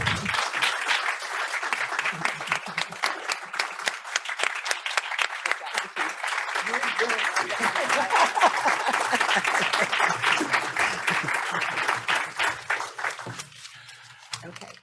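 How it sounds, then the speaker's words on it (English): A mayoral runoff forum audience gives its candidates sustained applause, dense steady clapping that fills the room for over ten seconds before thinning out near the end, with a voice faintly mixed in. "Let's have a round of applause for our candidates."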